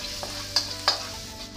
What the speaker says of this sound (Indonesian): tumis bawang putih